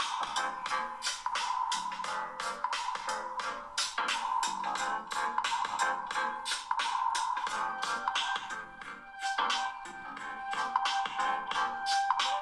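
Ringtone melody at full volume from the bottom-facing speaker of a Nokia 7 Plus phone set down on a surface, a bright, rhythmic string of repeated notes playing steadily with no talk.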